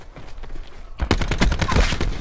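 Video game gunfire from teammates, faint shots at first and then a sudden burst of loud, rapid repeated shots crackling close by.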